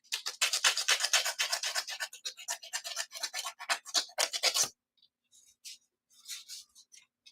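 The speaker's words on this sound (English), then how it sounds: "I get the sandpaper and I go where the shoe hangs on that barrel. So what I'm doing is I'm scuffing that up" Sandpaper scuffs the shoe and barrel of a slot car in quick, rhythmic rasping strokes, close and crisp, then breaks into a few short scattered rubs before stopping.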